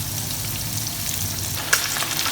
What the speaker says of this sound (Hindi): इसको हम मीडियम हाई फ्लेम पर फ्राई करेंगे